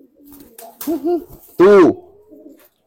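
Domestic pigeons coo close by at a loft, a few rolling, throaty calls with one loud burst, while someone speaks over and between them.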